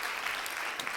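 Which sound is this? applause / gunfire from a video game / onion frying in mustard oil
applause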